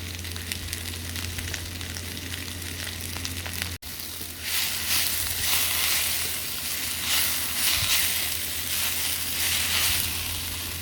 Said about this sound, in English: Just fry these onions nicely now.